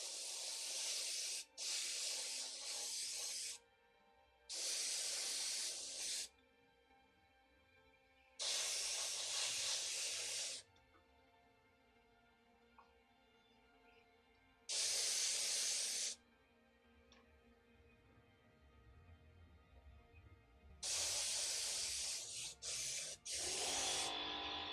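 An airbrush sprays paint over a stencil in a series of loud, close hissing bursts, each lasting one to two seconds and separated by quiet pauses.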